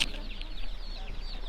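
Chickens cluck softly amid the ambient bustle of an outdoor poultry market, faint and mid-distance, with brief scattered calls over a steady background hum.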